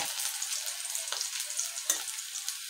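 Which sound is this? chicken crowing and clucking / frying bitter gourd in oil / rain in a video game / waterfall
frying bitter gourd in oil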